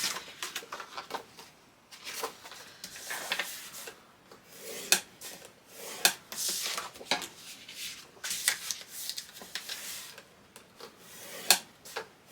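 A scoring tool drawn along square 6x6 inch paper pieces at a half-inch mark for a baby album project, giving repeated short scraping rubs in irregular bursts, close and fairly quiet.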